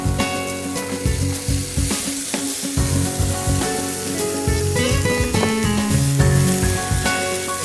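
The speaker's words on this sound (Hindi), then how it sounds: "उबले हुए राजमा हम इसमें डाल रहे हैं।" Boiled kidney beans dropped into a hot frying pan for tacos sizzle loudly and steadily, with stirring clatter and scraping close by throughout and no talk over it.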